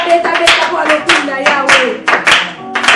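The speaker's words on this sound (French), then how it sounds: "On acclame très fort." A church congregation applauds loudly, a dense run of clapping with several swelling bursts, while voices shout and sing along over the claps.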